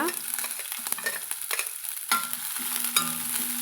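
Close sizzling of onions, chilies and ginger in a hot pan with scraping stirs, sautéed and tossed in short irregular strokes.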